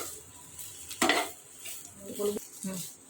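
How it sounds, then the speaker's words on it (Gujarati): Sev khamani is stirred with coriander leaves in a bowl, producing close scraping and clinking of a spoon against the dish in a few uneven strokes, with soft background noise between. "હવે આને સારી રીતે મિક્સ કરી લઈશું."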